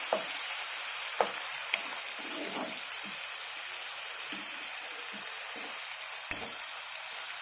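Chopped tomatoes hit fried ginger in a hot pan for aloo matar curry, giving a steady bright sizzle and frying hiss broken by a few small clicks and pops.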